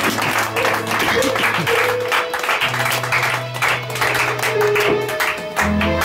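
A church congregation applauding, steady dense clapping throughout, loud and close, with music tones underneath.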